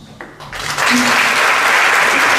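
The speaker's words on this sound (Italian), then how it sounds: "Un applauso ai ragazzi" Applause swells from a short lull into full, loud clapping by the audience at an award ceremony, sustained and close for the remaining two seconds.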